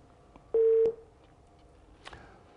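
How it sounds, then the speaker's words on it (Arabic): A telephone call connects on a live radio health call-in show, a single loud steady tone lasting about a third of a second, surrounded by faint clicks and line noise. "معاه تليفون ام احمد"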